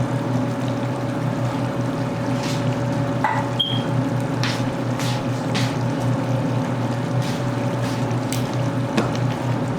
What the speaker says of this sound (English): I don't know if you can hear the air fryer